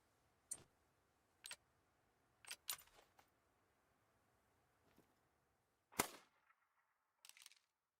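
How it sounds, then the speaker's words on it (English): Sharp, isolated gunshots from a .22 rifle in the hunting game theHunter: Call of the Wild, several spaced cracks over a few seconds with one louder shot and a short echoing tail, no talk. "I'm gonna try popping the 22 and see if that gets him out of there"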